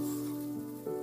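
Barnyard millet (bhagar) stirred into a hot tempering in a pan for upma, giving a steady close sizzle and frying crackle with a brief stir noise near the end.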